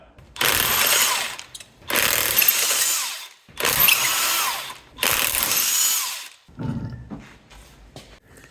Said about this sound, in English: Let's start by removing the front wheels and getting it up in the air